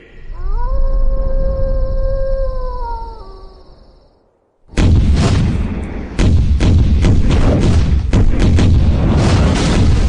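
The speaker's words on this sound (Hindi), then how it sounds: "दुश्मन के छक्के छुड़ाने के लिए ये तोपे ही काफी हैं" Cannons fire in a historical battle scene: a long sustained horn-like howl first, a brief near-silence, then heavy continuous booming blasts and rumbling explosions, loud and dense.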